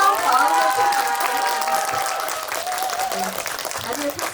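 Audience applause at a Busan International Film Festival screening Q&A for the film Soulmate, sustained dense clapping from a crowd filling the room, with an announcer's voice coming through near the start.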